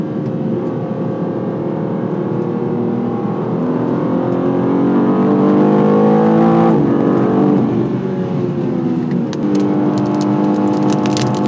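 From inside a 2026 BMW M2 CS on a wet road, the engine drones steadily as the car accelerates, pitch climbing through a gear change midway and rising again, with tire and road noise underneath.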